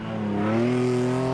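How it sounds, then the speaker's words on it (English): Mitsubishi Triton V6 engine floored on sand dunes, a loud sustained rev whose pitch climbs steadily and then holds, close and unbroken with no voices. "The Mitsubishi Triton is next, and Louis lets rip, flooring the V6 engine"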